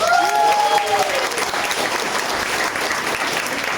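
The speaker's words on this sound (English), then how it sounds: "So can we give Patrick a big round of applause?" Audience applause for Patrick at a direct marketing seminar, a loud dense wash of clapping from a large crowd, with a brief tonal sound at the start.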